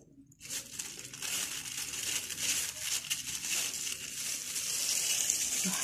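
An oiled plastic bag crinkles and rustles as dough is handled and pressed inside it, close and continuous after a brief silent start, growing slightly louder toward the end.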